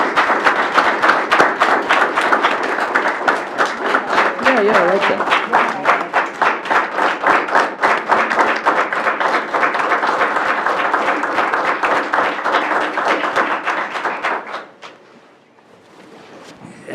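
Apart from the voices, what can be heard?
audience applause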